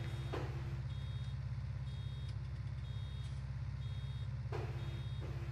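Reversing beeps from a farm vehicle in Farming Simulator 19 repeat at a regular slow pace, faint and thin over a constant low engine drone.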